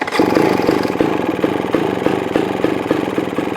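KTM motorcycle engine idling steadily with a rapid, even mechanical pulse, close and fairly loud, with no voices.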